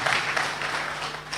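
A crowd claps at an outdoor public gathering in Kenya, a dense, even wash of applause filling the brief moment without any clear speech on top.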